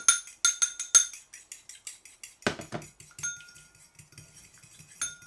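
Egg white and water whisked by hand in a bowl until frothy for candied pecans, giving quick rhythmic clinks and scrapes of the whisk against the bowl, fairly close and with no talk.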